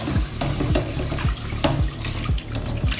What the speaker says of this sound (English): get the pot washed out